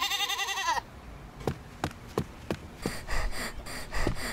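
A male goat that has broken loose from its rope bleats loudly at close range, then gives a string of short snorts and heavy breaths.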